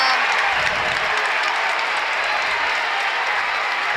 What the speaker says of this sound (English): as you can tell by the sounds of the crowd